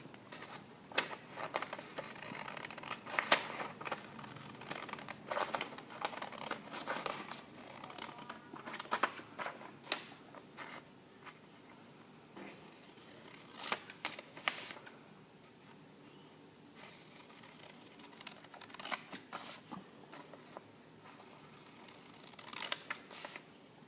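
Scissors cut paper facts out of a sheet, heard close and fairly faint as repeated short snips and crinkles in uneven bursts separated by quieter gaps, with no talking.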